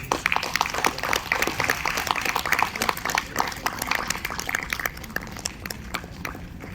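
Audience applause at a live concert award presentation for a 200th stage performance, many hands clapping in a fast, busy patter that stays strong and thins slightly toward the end.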